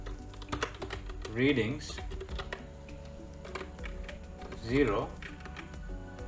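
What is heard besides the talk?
typing code on a computer keyboard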